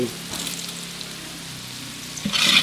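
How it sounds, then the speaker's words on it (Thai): Red chilies stir-fry in a hot pan for a Betong-style chicken soup, a steady soft sizzle close by that swells louder and brighter at the end as the food is stirred. "แล้วก็ผัดต่อ ใส่พริกแดงแล้วผัดมาได้ 2 นาที"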